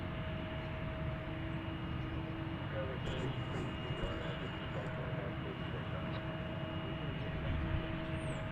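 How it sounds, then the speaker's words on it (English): A Boeing Dreamliner, American heavy bound for Honolulu, taxis at DFW airport, its engines producing a steady distant roar and whine over constant background noise. "So that other Dreamliner sneaking out there, I believe that one is going to Honolulu."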